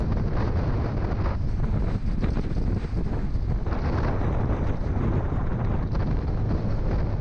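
Wind blasts across the microphone during a ride on a Honda Click motorcycle, a loud continuous low buffeting roar with steady rushing noise and no speech.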